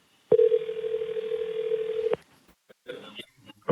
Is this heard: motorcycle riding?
no